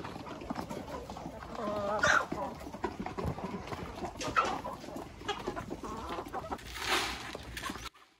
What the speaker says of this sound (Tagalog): Meron tayong Huluano tsaka Bisayang native chickens dito.